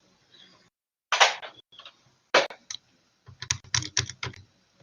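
Clusters of crisp clicks from typing on a computer keyboard, nearby and fairly quiet, in short irregular bursts with brief silences between them.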